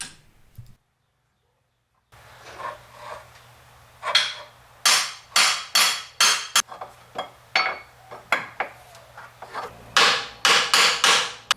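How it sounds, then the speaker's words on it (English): A hammer strikes stuck rear suspension bolts on a Triumph TR7's trailing arm and radius rod, sharp metallic blows landing close and loud in irregular bursts, some in quick runs, after a brief silence at the start. "I've been hitting it with a hammer."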